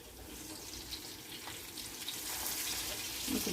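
Water runs from a kitchen tap as cooking tongs are rinsed, a soft, steady splashing hiss that swells slightly toward the end, with no talk.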